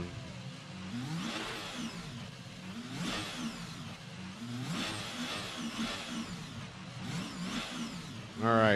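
F1 car engine from the F1 22 racing game at the French Grand Prix, revving in repeated high-pitched rising and falling bursts during burnouts, loud and continuous, with a louder surge at the end.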